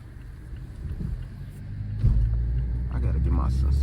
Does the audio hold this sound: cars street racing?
yes